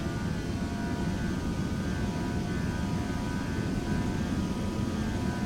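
Airliner engines run up to takeoff power in Flight Simulator X on a Bristol runway, a loud, steady, unbroken roar that holds level throughout.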